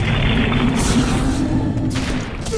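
A grenade blast in the PC shooter Blood Knights gives a heavy, booming rumble that stays loud and continuous, with a low roar rolling on as it slowly fades.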